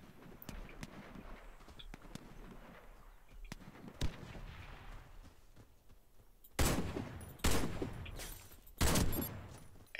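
Sniper rifle shots in the online shooter Warface, with scattered distant gunfire early on, then three loud, sharp close cracks in the final seconds.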